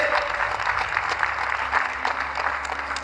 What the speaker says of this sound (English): give a big round of applause to Kanti Patel and the entire leadership of the Gujarat Cultural Association